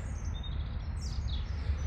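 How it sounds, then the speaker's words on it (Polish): Small birds chirp and sing in a nature reserve, thin high calls drifting at a moderate distance over a steady low outdoor rumble, with no one talking. "Ptaszki śpiewają, cisza,"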